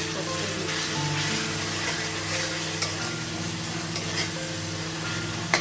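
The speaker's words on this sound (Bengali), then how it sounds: "এই যে মশলা কষাচ্ছি, ওটা করে ফুটছে।" Spices frying in a hot pan give a steady, close sizzling hiss that runs throughout, with a few faint clicks of stirring and no talk.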